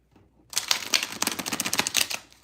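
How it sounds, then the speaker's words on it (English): Tarot cards are shuffled close by in a quick riffle, a crisp, rapid burst of papery flutters that lasts about two seconds after a short quiet start. "That was a nice shuffle."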